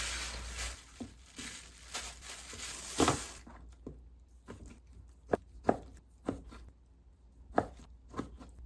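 A knife chops through a slab of pork belly, cutting it into thick pieces. The cuts land close and sharp as single strokes spaced unevenly, after denser rustling at the start.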